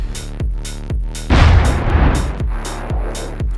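Railway artillery cannon in Minecraft's Create Mod firing a shell, a loud booming blast amid a steady run of rhythmic mechanical thumps, close and heavy, no speech.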